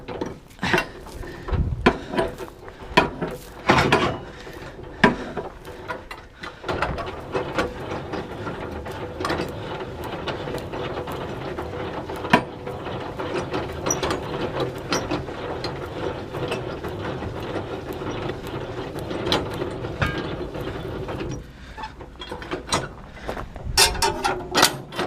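Landing legs on an HGV truck trailer being wound up by hand at a rural farm, giving a steady rapid ratcheting and clicking of gears, close and continuous with brief pauses and knocks between turns.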